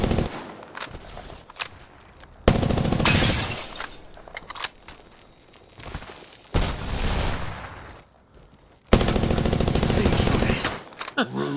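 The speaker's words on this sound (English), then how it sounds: "Smart bullets hit our foe." Smart-bullet gunfire in Apex Legends comes in loud, dense bursts that alternate with quieter gaps, with brief sharp cracks scattered between them and game sound beneath.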